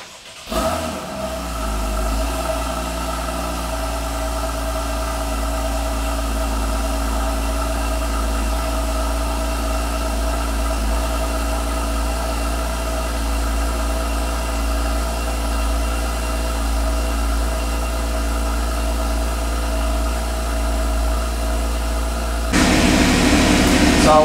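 Porsche 981 Cayman/Boxster S flat-six cranking briefly and catching after an oil change, then settling into a steady, even idle hum that holds close and loud for the rest of the clip, with a slight rise near the end.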